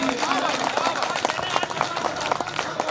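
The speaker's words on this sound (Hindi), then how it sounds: "पूरी मजमन ताली बजाकर इस्तेकबाल कीजिए" An audience at an All India Mushaira in Dharampuri, Dhar, Madhya Pradesh, applauds a poet, a dense, steady patter of many hands clapping throughout, mixed under a voice speaking over the crowd.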